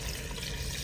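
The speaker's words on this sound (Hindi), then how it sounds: "अब इसके अंदर जो है ना हम पानी को ऐड करते हैं" Water poured into a pan of frying meat curry, a brief steady splashing and rushing of liquid, close and fairly loud, lasting under a second with no voices.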